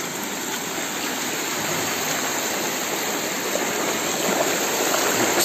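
Water rushes steadily along a canal, a continuous broadband wash that stays close and even throughout, with no voices.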